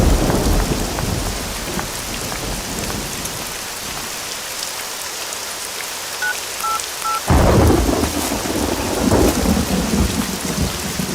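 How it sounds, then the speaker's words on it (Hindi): Heavy rain pours steadily with rumbling thunder, a dense wash of noise that thins briefly mid-way before a loud burst of downpour returns; a few faint electronic beeps sound in the background. "बारिश हो रही है"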